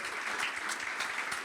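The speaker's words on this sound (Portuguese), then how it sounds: "Uma salva de palmas para esse clube maravilhoso." Audience applause at a business talk honoring a Brazilian football club, a short burst of steady, moderately distant clapping with no voices over it.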